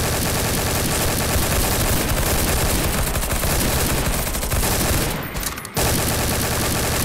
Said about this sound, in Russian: вот он такой громкий пулемет